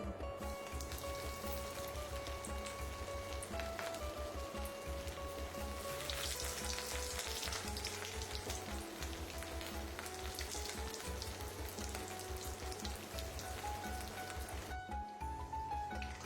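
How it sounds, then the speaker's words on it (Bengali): Pieces of rohu fish fry in hot oil, a continuous crackling sizzle like light rain on a surface, with a steady low hum running underneath throughout. "তেল খুব ভালো মতন গরম করে দিয়ে দেওয়া হচ্ছে মাছের পিসগুলোকে"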